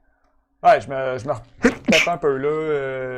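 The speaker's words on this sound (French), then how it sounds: "À tes souhaits." A single sharp sneeze breaks into a man's French conversation during an online tabletop role-playing game session, a brief burst tangled among continuous nearby talk.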